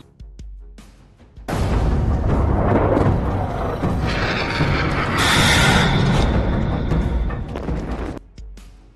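A sustained, rumbling blast from a missile strike roars up suddenly and churns for several seconds, loud and heavy, before cutting off abruptly.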